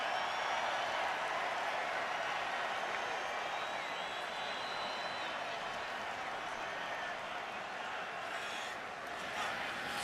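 A packed college football stadium roars with cheering and applause as Penn State clinches the Big Ten East against Michigan State, a dense continuous crowd wash with a commentator talking over it.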